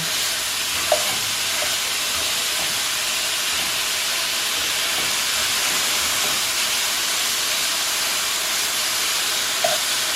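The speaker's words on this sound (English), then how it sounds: "So we're going to put the ground meat in here and brown it." Ground meat, a meatless substitute, browning in a pan for an egg roll bowl gives a steady, fairly loud broadband sizzle and hiss, with a few soft clicks of stirring and no talk.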